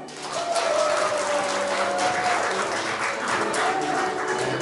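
An audience at a community leaders' gathering gives dense, sustained applause to welcome a panflute and ocarina celebration performance, steady and fairly loud throughout, with faint tonal sounds underneath.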